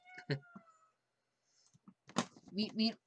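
A kitten meows briefly near a computer desk at the start, followed by a person talking nearby.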